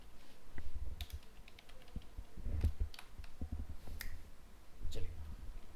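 Computer keyboard typed while writing CSS code for a z-index property: bursts of soft, close keystroke clicks in uneven runs over a low background hum.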